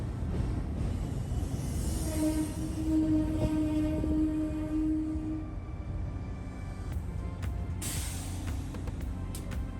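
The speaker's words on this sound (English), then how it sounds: "from around the corner comes train 6454" CT Rail train 6454, hauling three Mafersa single-level coaches that once ran on Virginia Railway Express, rolls into a station in winter, a loud steady rumble with a sustained tonal hum and brief squeals.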